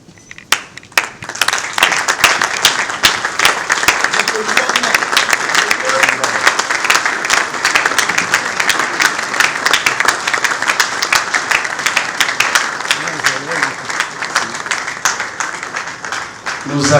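A large audience applauds the arrival of a bishop general at a gathering, steady dense clapping that starts with a few sharp claps, swells and holds loud for the whole stretch before thinning slightly.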